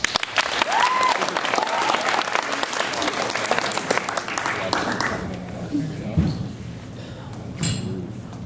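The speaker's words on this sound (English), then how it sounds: "give them a good round of applause" Audience applause at a live music marathon concert, a dense crowd clapping loudly and steadily for several seconds before thinning out to scattered claps, with a stray clink near the end.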